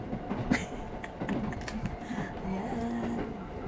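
A passenger train in Japan pulls away with a steady low rumble and faint rail clatter, heard from inside a carriage as it gets under way.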